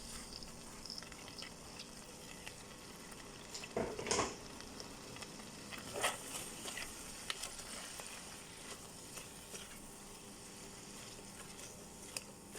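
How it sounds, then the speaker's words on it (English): Onions browning in a pan after the beef has come out, for German beef goulash, giving a steady low sizzle and crackle with a couple of louder spattering bursts. "The next thing is to add the onions, and we're going to brown the onions off."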